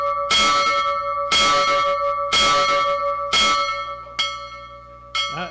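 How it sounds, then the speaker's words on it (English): A bell struck four times in steady succession to announce that voting is open at a meeting, each loud ringing stroke sustaining and decaying before the next, followed by two lighter, shorter taps near the end. "Ring the bell."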